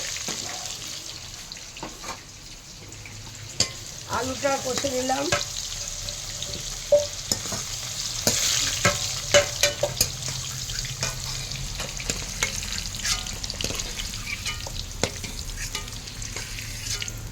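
Potatoes for sukto frying in a pan, a continuous close sizzle with intermittent scraping stirs and spoon knocks, growing busier partway through, with a faint voice briefly in the background.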